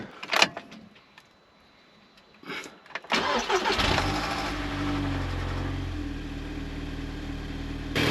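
An Audi TTS Mk2 is started after a few faint clicks and rustles: the starter cranks briefly, the engine catches with a rev flare, then settles into a steady, even idle close by.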